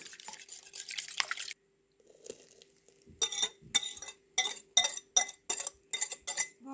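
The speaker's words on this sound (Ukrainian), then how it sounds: "Вбиваю яйця і додаю їх у тісто." Eggs are cracked and added to dough for Transcarpathian kifli with cheese and walnuts. A quick run of clinks opens, then a short quiet gap, then a series of sharp, separate taps and knocks at a steady pace.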